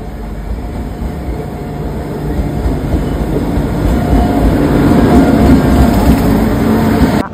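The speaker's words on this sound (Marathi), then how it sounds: "ये बघा ट्रेन आली." A train pulls into a station platform with a steady, loud rumble and clickety-clack of wheels on rails that swells slightly as the carriages draw nearer, continuing throughout with no talk.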